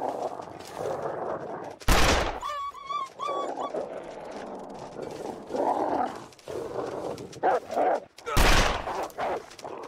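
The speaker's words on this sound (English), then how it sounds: "The gun didn't fire right away." Revolver shots ring out in the survival video game The Long Dark, two sharp, loud blasts about six seconds apart, with animal whimpers and yelps in between and quieter game ambience.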